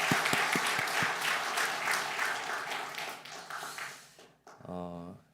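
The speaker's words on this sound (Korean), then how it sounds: "우리 에베네셀 하나님께 우리 감사와 찬양의 박수를 한번 더" Applause from a church congregation during a Korean Baptist Sunday worship service, a dense wash of many hands clapping together for several seconds that then tails off as a voice begins to speak.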